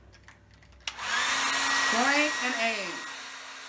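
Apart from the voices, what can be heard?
hair dryer blowing on crayon art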